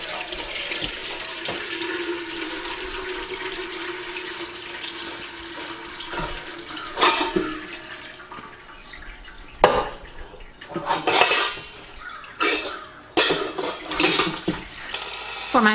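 Chicken broth poured through a strainer into a big bowl, heard as a steady trickling, splashing stream that later turns into uneven gushes and spatters, close and without talk.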